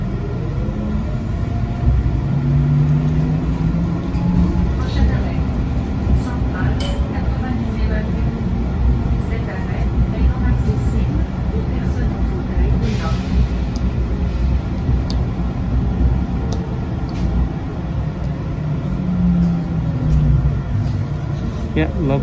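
Inside a moving Montreal STM Nova Bus LFS Hybrid, number 28-704, a steady low engine and road rumble continues with light rattles and clinks, while passengers talk over it throughout.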